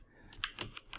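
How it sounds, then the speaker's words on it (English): Several quick, faint keystrokes clack on a computer keyboard while a formula is typed into an Excel dashboard, spaced unevenly over about a second with no talking. "when I start typing"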